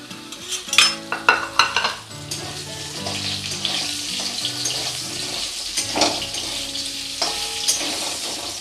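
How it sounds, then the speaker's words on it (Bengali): Potatoes frying in oil left from frying fish, a steady close sizzle running throughout, with a few clattering stirs and knocks near the start and a brief metallic clink later. "এবার আমি মাছ ভাজা তেলের মধ্যে আলু ভেজে নেব।"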